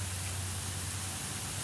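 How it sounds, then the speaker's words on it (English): Constant heavy rain falls during a flash flood, a dense, steady hiss of water with a low rumble underneath, continuous and unbroken with no voices. "It's just been constant heavy rain for the past 2 days."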